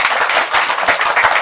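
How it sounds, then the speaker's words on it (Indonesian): An audience at a traditional arts gathering in Tulungagung, Indonesia claps and applauds loudly and steadily, a dense wash of many hands. "Tepuk tangan untuk Gedang Godok."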